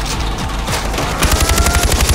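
Rapid automatic gunfire from a Far Cry 4 prison escape battle: loud, close bursts of machine-gun fire that build into a dense rattling volley, with no talking over it.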